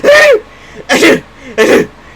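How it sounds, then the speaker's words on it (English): Three loud, close sneezes in the video game Sakura Magical Girls, each a sharp burst with a breathy tail, evenly spaced with short pauses between them. "I sneeze loudly."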